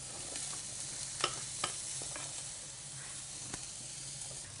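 Venison searing in a hot pan gives a steady, even sizzle and hiss, with a few soft clicks from the pan, close and constant with no talk over it.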